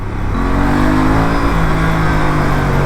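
A 2025 Aprilia RS 457 motorcycle accelerating hard, its engine droning loudly and rising in pitch through a gear change, close and continuous under rushing wind.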